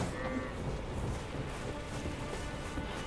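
Cattle mooing in the video game Elden Ring, a steady stretch of animal lowing over a dense, continuous game backdrop with no talk.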